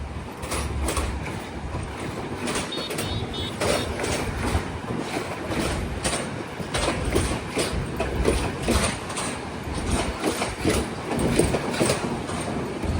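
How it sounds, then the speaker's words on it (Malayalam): A Sri Lanka Railways express train runs along the coastal line, a steady loud rumble and rattle of wheels and carriages going on without a break for the whole stretch, with no talking. "എന്തായാലും ഇതൊരു എക്സ്പ്രസ് ട്രെയിനാ"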